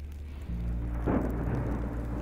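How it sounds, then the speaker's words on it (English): Rain and a low rumble of thunder in Minecraft Story Mode, a soft steady patter joined halfway through by a deeper swelling roll, fairly quiet with no talking. "And, of course, it's raining."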